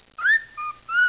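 A pet bird whistles three short, clear, rising and falling notes, close and loud against silence.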